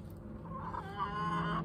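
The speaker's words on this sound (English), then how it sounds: "So beyond this little fence here are a bunch of chickens." A flock of chickens behind a small fence cluck and murmur softly, a brief, faint burst of low bird calls with no talking.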